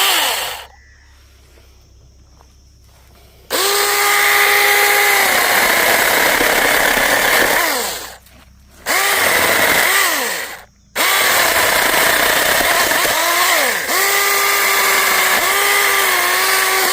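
A chainsaw cuts wood on a farm, revving hard in long loud bursts with a falling whine each time the throttle drops, pausing briefly between cuts while the engine idles low.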